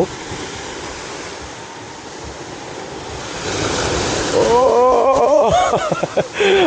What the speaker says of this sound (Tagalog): Agos na yung tubig